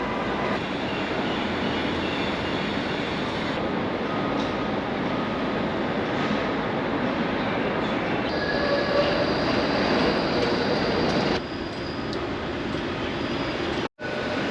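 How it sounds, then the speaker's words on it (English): A Melbourne route 96 tram rolls along its tracks in a steady loud rumble with faint wheel squeal, heard from on board, with a brief dropout near the end. "just get on the tram, enjoy the ride, it's all free."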